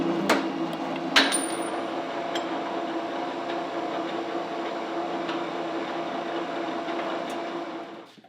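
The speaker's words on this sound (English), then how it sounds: "This machine will also chop solid square bar." A Peddinghaus 210/11 38-ton ironworker chops solid square bar in a shop, with a sharp close impact near the start followed by a steady, loud machine hum and drone that holds until it winds down at the end.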